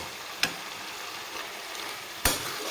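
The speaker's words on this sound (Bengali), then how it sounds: "এখন দিয়ে দিব ভেজে রাখা মাছের মাথা।" Fried fish heads go into a pan of cabbage, giving two sharp clunks over a steady low sizzle with no one speaking.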